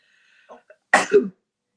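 A single sharp sneeze bursts out close to the mic after a few faint breathy sounds, followed by a short voiced tail, during a horror-movie watch-along.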